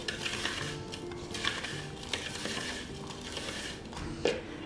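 A spoon scrapes and clinks against a bowl while melted butter is stirred into crushed biscuit crumbs, giving a gritty, irregular mixing sound close up.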